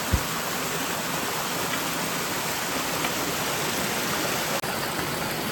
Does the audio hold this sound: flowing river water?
yes